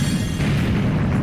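Booming explosion effects from the video game Mighty No. 9, a dense low rumble that holds through the moment with a slight fade at the end, loud and without speech over it.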